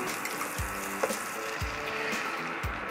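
Eggs going into margarine in a hot imarku non-stick cast iron pan, giving a soft, even sizzle at low level with a few faint knocks and scrapes of a utensil.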